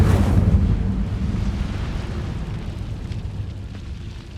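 An Incendio fire spell bursts out in Hogwarts Legacy with a loud, whooshing low rumble at the start that settles into a sustained crackling roar of flame, fading slightly over a few seconds.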